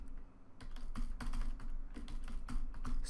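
Someone types code on a computer keyboard in a quick, uneven run of clicking keystrokes, close and moderately loud, with short gaps between bursts and no voices.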